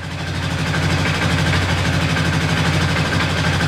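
A Polaris Sportsman 500 ATV engine, fitted with a worn carb boot, idles steadily while warming up, with a low, even, close-up throbbing pulse and no talking.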